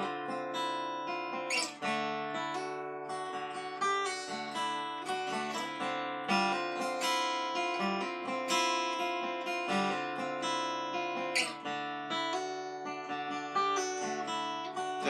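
Acoustic guitar playing a riff in a D-shape chord, with hammer-ons and pull-offs on the bottom string. Steady ringing strummed and picked notes continue throughout at a moderate volume, and no voice is heard.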